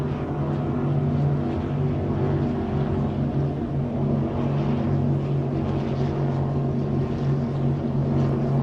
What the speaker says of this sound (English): It's about the only boat that you can hear from this far away.